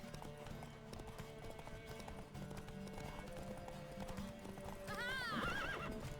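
Rhythmic clip-clop of horse hooves under a low musical backdrop in The Witcher 3 video game, ending with a loud, wavering horse neigh near the close.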